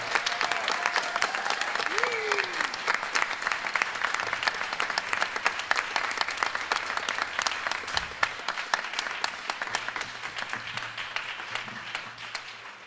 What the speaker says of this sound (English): Please give some a round of applause to Brandon Whitehurst